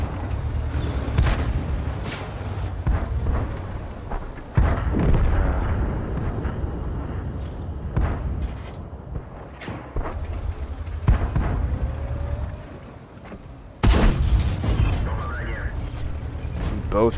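Tank cannons fire in World of Tanks as an American M3 fights alongside a Panzer IV, heavy booming shots standing out over constant engine rumble and battle noise, with someone talking over the action.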